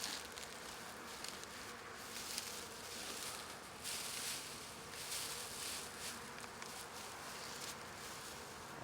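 A dense, continuous buzzing of many honeybees swarms close by at a hive, steady and fairly loud with no voices.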